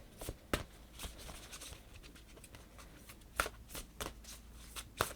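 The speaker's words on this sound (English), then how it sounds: "But we're going to pick a card from this deck," A deck of tarot cards being shuffled by hand: soft papery riffles and flicks come in irregular bursts over several seconds, with a few sharper snaps standing out, heard alone and close up.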